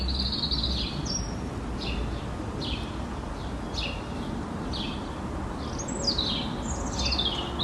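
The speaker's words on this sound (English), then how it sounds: "So in this clip, there is a European goldfinch," Birdsong recorded in the middle of town, including a European goldfinch: repeated bright chirps and short twittering calls, fairly faint over a steady low background hum.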